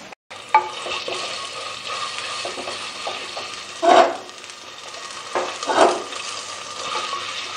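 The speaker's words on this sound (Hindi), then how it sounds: "इसको थोड़ा सा भूनते हैं, 1-2 मिनट बस" Ginger, garlic and onion frying in a pot: a constant close sizzle with a few louder hissing bursts and light stirring clinks, no voices.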